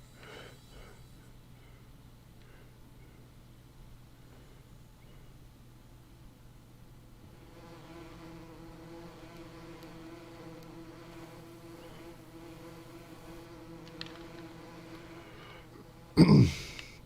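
Beehives in the Farming Simulator 19 video game give off a faint, continuous insect buzz with a low hum beneath it, running steadily at low level before a brief louder burst near the end.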